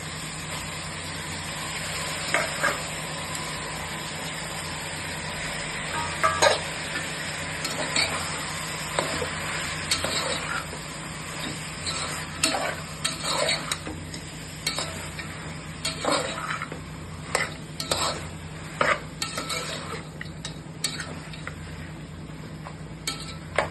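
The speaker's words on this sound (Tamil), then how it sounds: "கொஞ்ச நேரம் நல்லா வதங்கணும். நல்லா கறி வதங்கிடுச்சு." Mutton sautéing in a pan with onions and tomatoes for mutton kulambu, a steady close sizzle throughout with frequent scraping and clacking of a spoon stirring against the pot.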